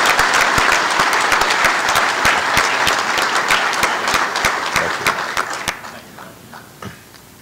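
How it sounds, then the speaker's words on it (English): Loud, crisp applause from an American Legion convention audience for scholarship recipients, dense at first and then tapering off into a few last claps near the end. "Let's give all of our bright young recipients another round of applause"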